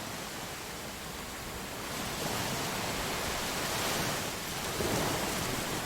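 A continuous wash of video game ocean surf rolls on, with broad hissing swells rising and easing, no voices present.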